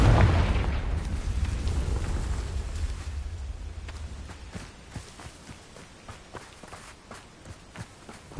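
A Confringo fire spell explodes in Hogwarts Legacy, starting with a loud booming blast that fades into a long crackling tail, followed by soft footsteps and small pops.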